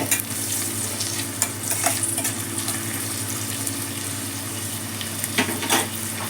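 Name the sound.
frying onions with curry leaves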